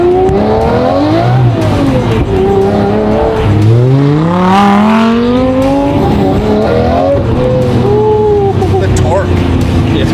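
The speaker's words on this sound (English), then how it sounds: "the Murcielago is the best sounding car" A Lamborghini Murcielago engine rumbles and revs up close, its throaty drone swelling and falling beneath steady male conversation throughout.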